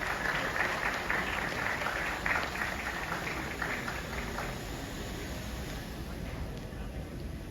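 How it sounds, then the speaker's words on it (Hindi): An audience at a live trading competition event claps loudly for a contestant. The steady, crackling applause is strongest at first and slowly thins out toward the end. "जोरदार ताली भाई।"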